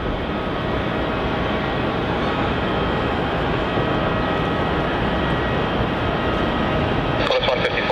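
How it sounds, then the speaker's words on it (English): Steady, loud roar of an Embraer E190 jet engine as the plane rolls down the runway at Melbourne Airport for departure, sustained and unbroken. "E190 is now rolling down runway 27 for its departure"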